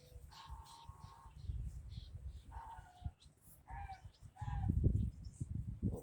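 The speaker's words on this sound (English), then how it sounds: "enjoy the ducks if y'all care to watch" Several ducks call with short, nasal quacks in scattered bursts, fairly close, over a soft background rustle and low shuffling noise.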